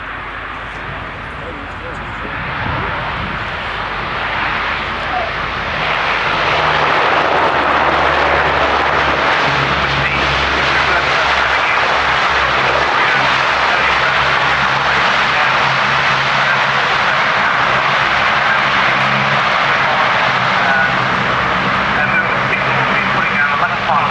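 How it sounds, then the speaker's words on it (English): A military transport aircraft with Allison engines lands and applies reverse thrust at RAF Finningley, the engine roar building from a moderate drone into a loud, sustained, rumbling blast that holds steady to the end. "he'd use the power and the reverse thrust from those Allison engines to stop as quickly as possible"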